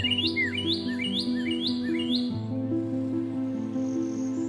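Manakin birds calling in the Amazon jungle: a run of five or six sharp, rising whistled chirps repeats rhythmically, close and clear, over a steady hum of insects and forest background.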